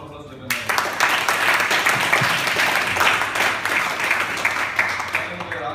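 Audience applause at a Toastmasters club meeting, a dense steady clapping from a room full of people that starts abruptly and holds at full strength for several seconds.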